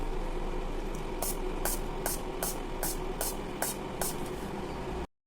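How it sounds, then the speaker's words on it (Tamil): Several short hissing bursts of isopropyl alcohol spray misted over melt-and-pour layered soap to pop surface bubbles, about seven evenly spaced puffs close to the microphone over steady background noise. "குட்டி குட்டியாக பபிள்ஸ் இருக்குங்காட்டி I3 ஸ்ப்ரே பண்ணிக்கிறோம்."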